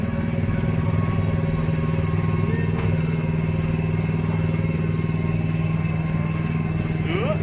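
Steady, even engine drone from a driven ride car at Disneyland Paris, humming continuously at close range, with faint talking now and then in the background.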